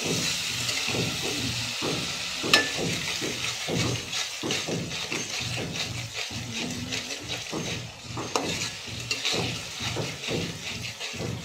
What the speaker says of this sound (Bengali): এক চামচ লবণ দিয়ে আবারও আমি নেড়ে নিব